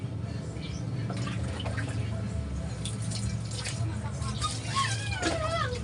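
Running water splashes steadily throughout while a puppy, a young Belgian dog, is bathed; a few high whimpers rise near the end, and a voice talks over the flow.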